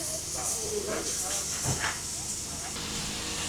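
A steam locomotive engine at a heritage railway gives off a loud, continuous hiss of escaping steam, close by, with faint voices talking underneath.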